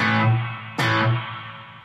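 Electric guitar through a Blackstar ID:CORE Stereo 20 V3 amplifier with a reverb effect, a ringing chord that decays, then a second sharp strum that blooms and trails off in a wash, played alone.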